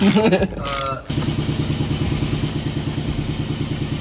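A 1986 Porsche 911 Targa pulled from abandoned storage cranks briefly, then catches and runs with a rough, rhythmic flat-six chug close by, after a short burst of talk at the start.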